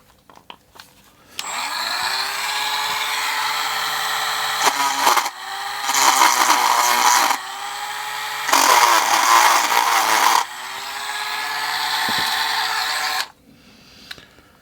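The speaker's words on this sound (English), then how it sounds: "Right, the tops of these also need drilling out," A small power drill bores out parts on a DJH 2MT 2-6-0 model locomotive kit, a steady high whine running in several long bursts, with brief pauses and changes in pitch between them, loud and close.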